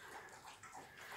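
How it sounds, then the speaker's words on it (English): A pet dog laps water from its bowl close by, a short burst of wet, splashy slurping that fills the quiet room for about a second. "It's my dog drinking water."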